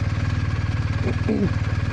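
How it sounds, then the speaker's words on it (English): Motorcycle engine running steadily with the clutch held in the friction zone, a low rhythmic throb throughout that swells briefly with a little throttle near the end, with no talk over it. "I want you to listen to the engine and my clutch and throttle"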